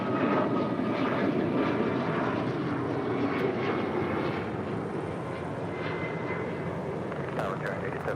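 Alaska Airlines jet taking off at LAX, a loud, steady broadband engine roar that holds throughout and eases slightly toward the end, with faint voices underneath.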